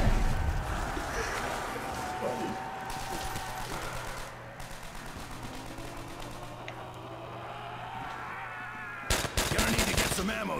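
Gunfire in a Custom Zombies PC mod map of a first-person shooter, rapid bursts of shots over a busy in-game backdrop, with a sharp loud burst near the end.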